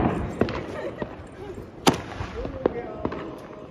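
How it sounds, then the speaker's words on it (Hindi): Several sharp cracking bangs from firecrackers pop at irregular intervals, one louder blast in the middle, with people talking in the background during Diwali. "अब जलाएंगे ये पटाखा"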